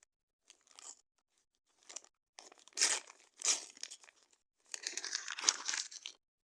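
Close-up crinkling and tearing of a thin paper surprise packet, in several bursts of rustling separated by short pauses, growing busier toward the end.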